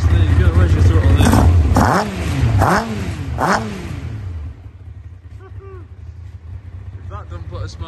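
A 2003 Tiger Racing Avon ZX9 kit car with a motorcycle engine fires up and revs hard in several loud, rising blips, then settles to a lumpy idle, with someone talking over it.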